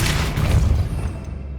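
A Depulso spell cast in Hogwarts Legacy lands as a loud, heavy whooshing boom with a deep low rumble, swelling for about half a second before tailing off into a fading wash of noise.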